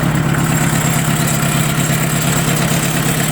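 A Mitsubishi MT1801D mini tractor's four-cylinder 18 hp engine idles under the hood, loud and close, with a steady, even low rumble and no other sounds.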